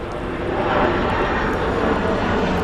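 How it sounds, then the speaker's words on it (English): A fixed-wing aircraft passing overhead, a loud steady engine roar that holds for the whole stretch with no voices, heard from outdoors at a home vegetable garden. "the aircraft are still flying in and out"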